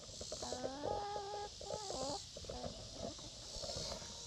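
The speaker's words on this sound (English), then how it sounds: "Hello, chickens." Chickens cluck and croon nearby in short repeated calls, with a low hiss of background noise. The birds are fairly quiet and no one speaks.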